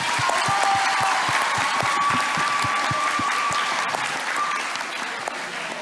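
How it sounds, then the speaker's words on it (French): A crowd claps loudly for performers at a neighbourhood community event in Kourou, French Guiana. The applause is sustained and even, with a thin tone and some voices faintly audible beneath it. "on les applaudit très fort"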